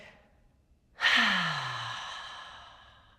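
A single long, breathy exhale during seated chair yoga, starting abruptly after a quiet pause, close and clear, then fading slowly over a couple of seconds with no talking.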